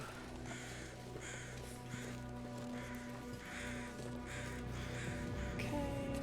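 Crows caw repeatedly in The Long Dark, a series of harsh calls in irregular bursts over a steady low droning background, moderately distant.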